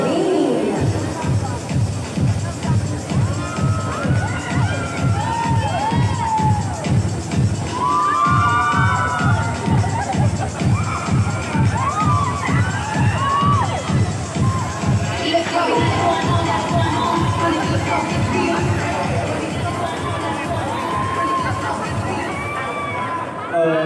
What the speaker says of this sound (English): A round of applause for these gentlemen, please.